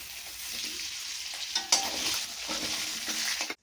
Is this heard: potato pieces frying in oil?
yes